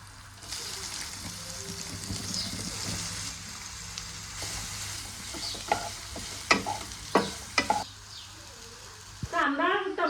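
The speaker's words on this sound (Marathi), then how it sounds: "त्याला मी आता थोड्याशा तेलामध्ये जिरं, मोहरी, कढीपत्ता, कांदा, टमाटो यामध्ये परतून घेणार आहे" Soybean chunks sautéing in a little oil with cumin, mustard seeds, curry leaves, onion and tomato give a steady close sizzle, then a run of sharp spoon scrapes and clatters against the pan near the end.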